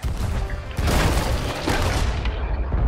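Ship cannons firing in the pirate video game Sea of Thieves: heavy booms land in quick succession, with a loud blast near the start of the second half and another shortly after, each followed by a rumbling tail.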